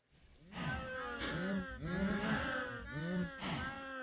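Minecraft cows moo four times in a row, each call long and fairly loud, coming close together with short pauses and no talk over them.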